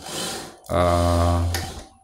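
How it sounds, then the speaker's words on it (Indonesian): A power drill drives a self-drilling screw into a metal plate while a Toyota Etios Valco body kit is fitted, giving a loud, steady whirring buzz for about a second after a brief rough scrape. "Ini saya bor dulu untuk di platnya ya"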